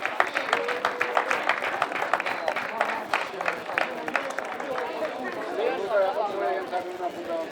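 A crowd applauds at a Catalan trail-running championship award ceremony. The dense clapping is strongest at first and then thins into murmuring and scattered claps under faint voices.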